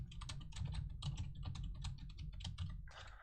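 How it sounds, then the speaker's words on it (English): Typing on a computer keyboard, a quick irregular run of close, quiet key clicks in bursts with short pauses, no voice over it. "I have to type something."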